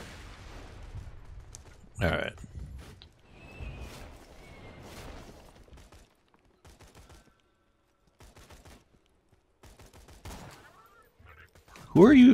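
Borderlands 2 gunfire comes as a few sharp, separate shots spread across quiet stretches, with a burst near the start, a few more in the middle and another near the end, under some soft background game sound.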